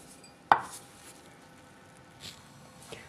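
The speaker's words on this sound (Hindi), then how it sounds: "इस तरह गिलास की मदद से दरमियान में से काट लेंगे।" A drinking glass is pressed down through a slice of bread to cut out its middle, giving one sharp clack against the board, followed by a few faint soft rustles and taps.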